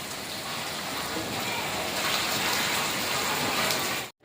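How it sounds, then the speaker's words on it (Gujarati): Steady, dense rain pours down, a constant close hiss of water on surfaces that cuts off abruptly at the end. "સવારનો વરસાદ શરૂ જ છે"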